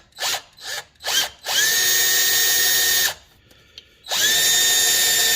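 A cordless drill drives screws through a fuel filter bracket on a turbo 6.0 foxbody Mustang swap: a few short bursts, then two long sustained whines separated by a brief pause, loud and close with no talk.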